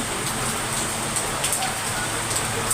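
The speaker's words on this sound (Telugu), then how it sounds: "ఇప్పుడు వర్షం స్టార్ట్ అయింది" Steady rain pours down at night around a house with a veranda, a continuous even hiss of drops on surfaces that stays close and fairly loud throughout.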